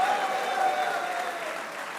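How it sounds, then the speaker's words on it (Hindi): Applause from a television studio audience on a cricket discussion program, steady mid-level clapping sustained for a couple of seconds over a thin background tone, slowly easing off. "आला कारकर्दगी पे शादाब के लिए भी तालियां होनी चाहिए।"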